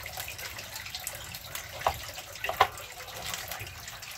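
Water fills from a household tap at night, a steady low gushing stream with a couple of brief clinks of a container, heard alone without talk.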